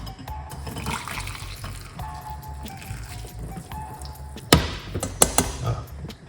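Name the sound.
pouring herbal tea (rosemary, garlic, ginger, cloves) into a mug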